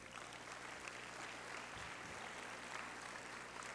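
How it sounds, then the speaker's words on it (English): A seminar audience applauds a recognized group with steady, dense clapping that fills the room evenly at moderate loudness, without any voice over it. "let's give that group a round of applause"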